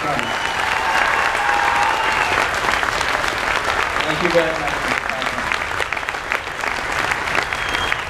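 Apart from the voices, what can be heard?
audience applause at a school concert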